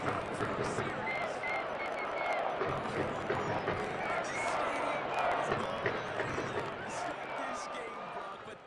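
Stadium crowd in a Madden football video game breaking into a sustained roar after an interception, a dense wash of cheering that stays loud throughout, slowly easing near the end.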